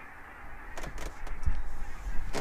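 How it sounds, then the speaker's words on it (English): Wild geese or similar waterfowl gathering in a large flock on a lake, honking from a moderate distance over a steady outdoor wash, with a few louder calls breaking through. "thousands and thousands of birds are actually gathering here on this lake. Oh, pretty awesome. They make a hell of a lot of noise."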